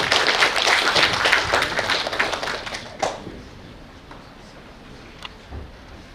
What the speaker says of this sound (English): Please give a round of applause for Dr.